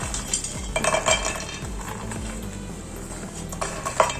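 Makhana (fox nuts) roasting in a pan with little or no ghee, rattling and clinking against the metal in repeated bursts as they are tossed and stirred, fairly close and with no talking.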